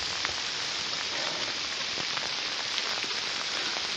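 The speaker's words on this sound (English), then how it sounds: "But man, it is pouring rain out." Heavy rain pours down in a constant, dense hiss on high ground during a cave search, with individual drops spattering on nearby surfaces throughout.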